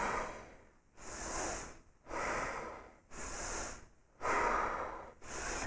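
Powerful, steady yoga breathing with forceful rhythmic exhalations, about five strong breath pulses in a row, close and clear with no talking.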